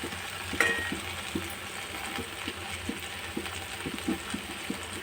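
Okra (bhindi) frying in a pan until golden brown, a steady close sizzle with light repeated scraping or stirring clicks running through it.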